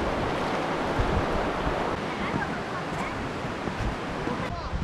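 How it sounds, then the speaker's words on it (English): A steady, broadband roar of a backcountry waterfall after rain fills the whole stretch, constant and fairly loud, with a breathy wind-like hiss mixed in. "Look at that waterfall."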